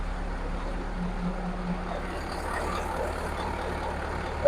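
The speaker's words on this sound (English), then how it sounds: "the truck's going to have to air up" A Mack CL713 truck with a V8 E9 engine running while it airs up, a low steady rumble and hum with a faint higher hiss, constant and moderate, ending in a short sharp burst.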